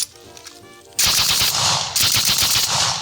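A Bren light machine gun of the Second World War fires in two sustained automatic bursts, loud and close, with dense rapid reports following a quieter lead-in.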